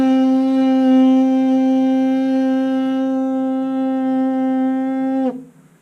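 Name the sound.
baritone lip buzz, P sound blowing air through closed lips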